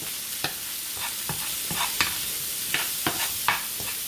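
Lobster pieces sizzle in a pan while a utensil scrapes and taps at irregular intervals, close and steady, with no voices.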